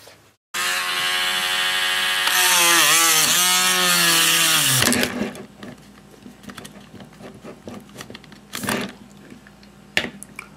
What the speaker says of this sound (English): what that was is me drilling the hole for the pin that wasn't drilled in the first place